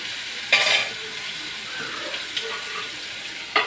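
Prawns sizzle and crackle in a pan as they are stirred, a soft steady frying hiss with a few sharper scraping clicks from the spoon, close and fairly quiet.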